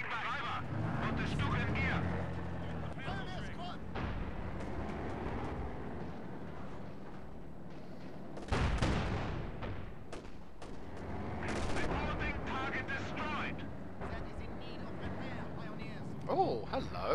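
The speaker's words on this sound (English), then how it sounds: "Light artillery barrage ready to launch." Light artillery barrage in Company of Heroes 2, scattered booming shell impacts and gunfire over a busy battlefield rumble, with a voice talking across much of it and a few sharper blasts standing out.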